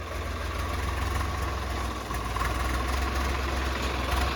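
A tractor engine with a faulty clutch idles continuously at close range, a steady low rumble with a constant throbbing hum and no voices.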